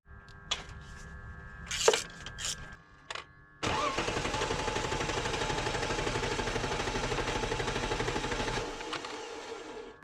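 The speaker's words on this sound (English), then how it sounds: "It cranks really nicely, so I don't really suspect that it has low compression" A BMW E46 wagon engine cranks in short bursts, then catches and settles into a steady, rhythmic starter-like churn for several seconds before stopping, heard fairly close with no talk.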